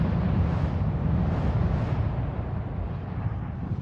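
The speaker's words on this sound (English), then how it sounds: "You get the boom. Explosions." A loud, sustained rumbling roar fills the whole range, steady and dense like a big explosion's blast rolling on.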